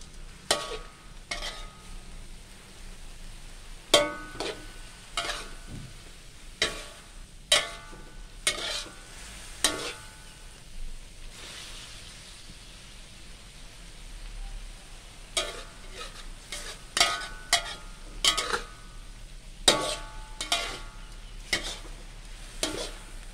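Egg tofu and holy basil leaves being stir-fried in a pan: a soft, continuous sizzle broken by repeated sharp spatula scrapes and clanks at irregular intervals.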